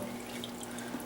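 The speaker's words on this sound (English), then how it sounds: "2 cups of water to our measuring cup, and have a pot" Tap water running steadily into a measuring cup in a home kitchen, a continuous close splashing stream for the whole moment with no voices.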